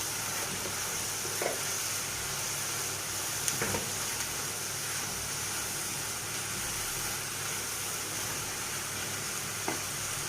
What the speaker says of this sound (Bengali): এইভাবে কম জালে মশলাটা ভালো করে কষিয়ে নেবেন